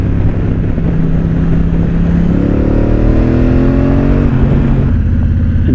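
A 2017 Suzuki V-Strom 1000 XT with an Akrapovic exhaust accelerates hard in its sportiest riding mode. The engine drone climbs steadily in pitch through the middle of the run before settling, loud and close, with no talking.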